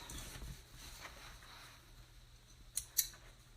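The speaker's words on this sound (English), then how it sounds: "we're just gonna snip the ends off" Scissors snip thread ends on a sewn apron base in a DIY craft project, with two quick, crisp cuts near the end after a quiet stretch.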